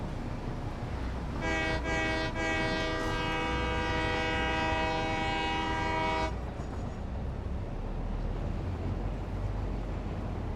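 A train horn in the Satisfactory video game sounds one long, loud, steady honk of about five seconds, then cuts off, leaving only a low rumble.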